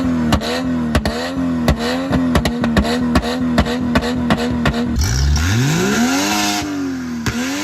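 A loud SUV engine revs up and down in rapid pulses with a crackling exhaust, then climbs in one long sweeping rev before dropping off.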